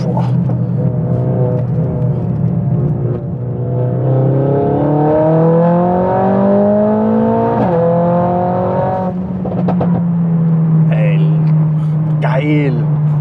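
Mercedes-AMG A 45 S with 525 PS, its engine revving up through rising tones and dropping back between gear changes, loud and close, settling into a steady drone, with brief voices near the end.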